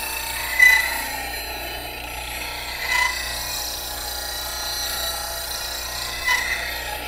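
A bowl gouge cuts the inside of a wooden bowl on a lathe, a steady rasping scrape with brief louder bites, continuous and close.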